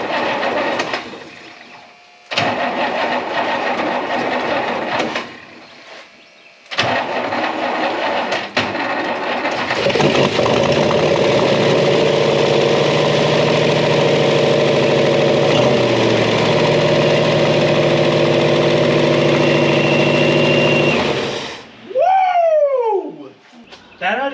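A Buick Electra 225 engine, parked since 1982 and without an exhaust, runs steadily at a rough, loud, droning idle for a long stretch after a few short bursts of revving, with no knocking, then cuts off.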